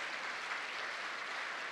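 Steady applause from a church congregation at a talk and concert, a dense even patter of many hands clapping throughout, with no voices over it.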